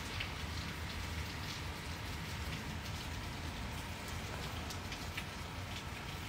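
Steady, heavy rain pours down continuously, a dense hiss of drops drumming on surfaces with no voices.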